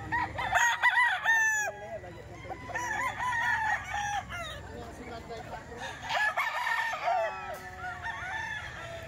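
Several young gamecock stag roosters crow one after another, close and loud, with strained rising calls, some clucking and a faint voice in the background.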